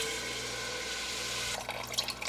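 Homemade chicken stock pours from a jar into a soup pot as a steady, gurgling liquid stream that breaks into brief splashes and drips near the end, quiet and close.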